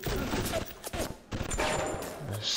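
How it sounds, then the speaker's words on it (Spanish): Shotgun blasts and gunfire in the video game BioShock, loud and repeated in a dense burst of shots with a short pause near the middle, mixed with game noise. "Vamos a usar la escopeta."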